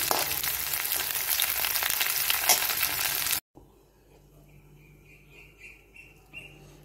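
Remaining fritters fry in hot oil as prep for a Basanti Puja meal, with dense, loud sizzling for about three seconds before an abrupt cut to a quieter kitchen with faint bird chirps.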